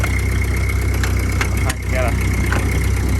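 Ford 8N tractor engine running steadily at a near, even idle-to-low throttle, a continuous low rumble with a few brief clanks from the gearbox, no synchronizers, as second and first gear are selected.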